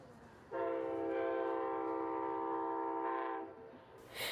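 An Amtrak passenger train makes a swift run through a Plant City, Florida crossing, its loud, sustained multi-tone horn blasting for about three seconds close by, then fading as the train's rumble carries on.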